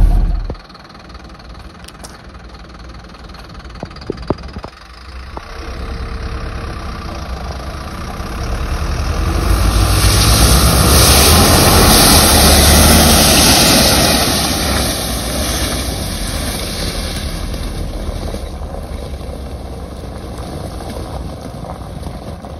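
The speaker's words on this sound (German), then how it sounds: "ich bin mit dem dritten Gang mit Untersetzung da durchgebrettert" Camper van engine pushing through a soft riverbed in Spain in third gear with low-range reduction, a loud continuous rumble that swells to a roaring peak midway and then eases, with wind or water rushing beneath.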